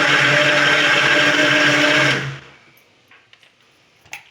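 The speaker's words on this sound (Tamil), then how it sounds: "தக்காளி அடிக்கிறாங்க. தக்காளி பேஸ்ட்." A mixer grinder whirs loudly and steadily while blending tomatoes into paste, then cuts off after about two seconds, leaving faint clinks and handling noises.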